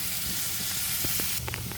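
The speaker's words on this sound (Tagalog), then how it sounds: "So as you can see, nagigisa po ako." Garlic, onion and tomato sauté in a hot pan, giving a steady broadband sizzle and hiss with a few soft clicks and stirring knocks, close and continuous.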